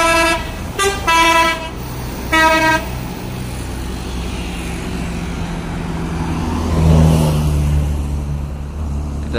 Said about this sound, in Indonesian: Dan di sana melintas bus